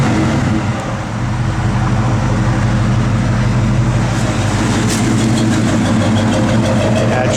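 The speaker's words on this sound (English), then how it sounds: "Get a little rev." A 1972 Chevrolet C10 big block V8 runs at a rough, loud idle close by, then gets blipped into short revs that rise and fall over a steady throbbing rumble.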